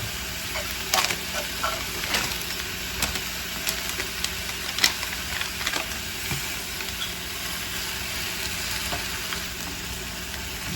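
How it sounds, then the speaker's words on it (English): Carne asada frying in a pan for chicken asada enchiladas gives a continuous, fairly quiet sizzle with scattered small crackles and pops, with no talking. "I'm going to add my pack of carne asada"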